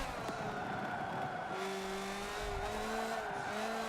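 Racing car in a video game endurance race, engine droning steadily with sustained tonal squeal of tires as it drifts and slides, continuous and loud throughout with no talk.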